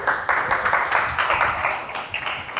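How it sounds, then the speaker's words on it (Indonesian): A small class audience at a broadcasting and film teacher-training session gives Nurul a brief round of applause, with steady, moderately loud clapping that lasts a couple of seconds. "Kita beri tepuk tangan untuk Nurul."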